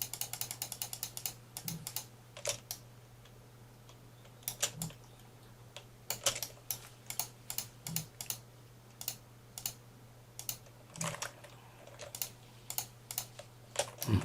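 Computer keyboard keys are pressed in scattered bursts of quick, close clicks, some single taps and some rapid runs, over a faint steady hum, with no talking.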